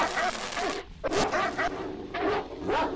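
Dogs barking in the STALKER game, sharp yips and barks in short bursts over a busy game background, fairly close and loud, with brief voice-like sounds mixed in.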